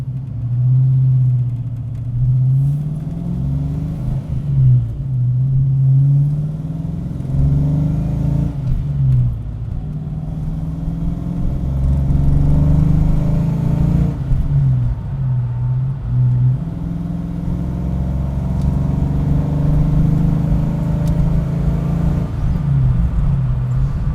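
Car with a 3.73 rear gear ratio accelerating toward interstate speed, its engine rumble and revving steady and close throughout with rising and falling tones, no talking.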